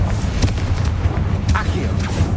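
A Confringo fire spell goes off in Hogwarts Legacy, a few sharp fiery bursts crackling over a steady low rumble of game ambience, with loud, dense noise throughout.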